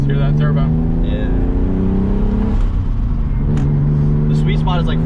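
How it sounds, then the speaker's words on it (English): Turbocharged, modified 1997 Camaro Z28 engine revving loudly and steadily close by, its low rumbling drone rising and falling under people talking. "Let's hear that turbo."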